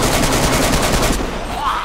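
Rapid automatic gunfire in the video game DayZ, a dense continuous burst of shots that fades near the end.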